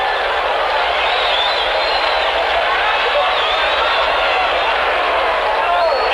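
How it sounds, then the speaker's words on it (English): A large crowd cheers and yells as the president and his wife approach the cars, a dense, steady roar of many voices that holds loud and unbroken throughout. "Cheering and yelling going on down the way as they approach the cars"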